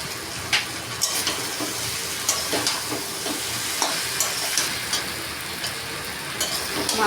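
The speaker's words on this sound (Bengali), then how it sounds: "মাথাগুলোকে মশলার সঙ্গে একটু কষে নিলাম।" Fish heads sauté with spices in a hot pan, giving a steady, close sizzle and fry with scattered crackles and light stirring scrapes, and no voice over it.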